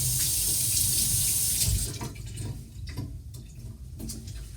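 Tap water runs steadily while Portobello mushrooms are rinsed at a kitchen sink, a loud hissing stream that turns choppy and splashy as the mushrooms pass under it.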